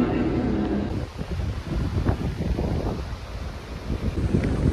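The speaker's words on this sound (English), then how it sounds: "It's so windy, bro." Steady roaring wind in Tokyo buffets the microphone, a constant rushing noise with gusty low rumbles and no voices.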